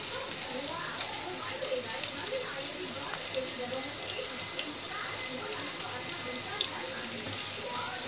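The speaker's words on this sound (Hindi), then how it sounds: "अभी कांदा फोलूंगी मैं," Chopped onion frying in a pan gives a dense, steady sizzle with faint crackles throughout, close and continuous, with no talking over it.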